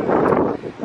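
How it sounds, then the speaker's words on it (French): Wind gusting into a microphone outdoors, across from a riverside hotel near boat piers, making a loud, low rumbling buffet that swells and then eases. "je sais pas si vous m'entendez à cause du vent"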